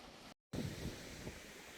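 Steady wind and surf wash on a beach at Langebaan, South Africa, a constant broadband rush with a brief cut of silence near the start, no voices.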